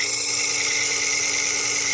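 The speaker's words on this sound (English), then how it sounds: "go up top here to the 180 grit wheel and try flattening this back again" A Worksharp 3000 sharpener spinning a 180 grit CBN wheel while a blade's back is flattened against it produces a steady, high-pitched grinding whine with no pauses, close and fairly loud, with no talking.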